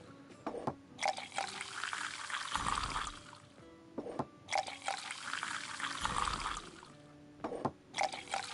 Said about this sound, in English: Pour 6 perfect mugs in one go.